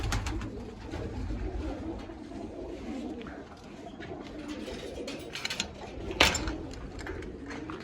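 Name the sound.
pigeons cooing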